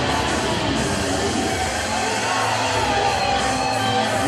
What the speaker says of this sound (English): You hear the crowd erupt there for the champ